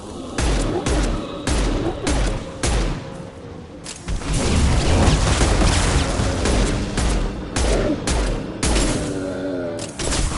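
Dense gunfire in a sci-fi shooter battle: rapid bursts of shots crack and boom in clusters, then a sustained heavy barrage, loud and close with no talking.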